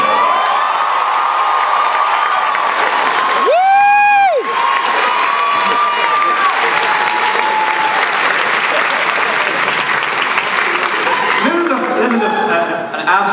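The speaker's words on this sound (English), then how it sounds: "people cheering for a song about particle physics" Audience at a live comedy-music show in Seattle erupts in steady applause and cheering after a song about particle physics, with whoops and a loud whistle rising over the dense clapping.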